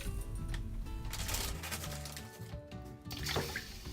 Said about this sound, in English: pour in 1 fistful of coarse salt and gently stir it in the water.